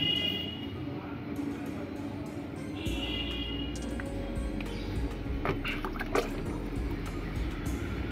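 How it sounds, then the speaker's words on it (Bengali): Water is poured into the soil of a potted jasmine plant during repotting, a soft, steady trickle and splash that runs on quietly with light background noise. "আমরা আরেকটু জল দিয়ে দিই।"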